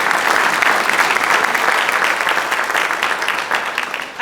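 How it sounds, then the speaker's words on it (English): Audience applause fills the room at a National Honor Society induction ceremony, a dense, steady clapping that carries on for several seconds before tapering slightly at the end. "Another round of applause for Sasha."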